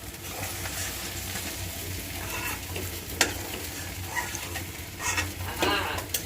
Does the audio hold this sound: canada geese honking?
no